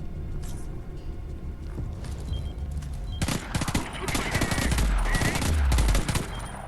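SMG fire in the video game Homefront The Revolution: short rapid bursts of automatic shots, building in intensity and growing louder toward the end, with occasional low booms.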